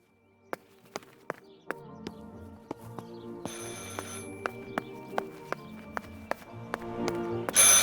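Old-style telephone bell ringing in the horror video game Martha Is Dead, a steady run of sharp metallic rings repeating at an even pace, close and clear over a faint ambient hum, with no talking.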